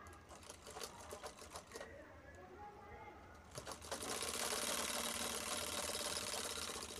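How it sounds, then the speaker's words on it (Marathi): A sewing machine stitches the sides of a bag made from saree borders, first in short stop-start bursts of rapid clatter, then in a louder, continuous run. "आपल्याला फक्त साईडच्या बाजू शिवून घ्यायचे."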